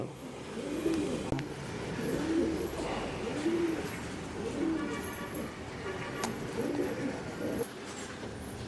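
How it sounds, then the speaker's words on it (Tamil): Racing pigeons coo in a loft, repeated soft throaty coos in a steady rhythm at close range, with people talking at times. "இது வந்து பறந்த புறாவோட பேரண்ட்ஸுங்களா?"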